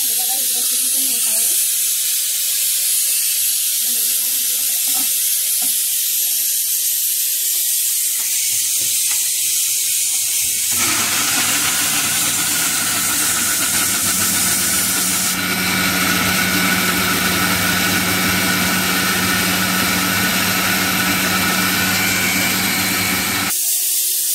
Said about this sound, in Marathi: तर चला आता आपण मिक्सरला लावून घेऊया.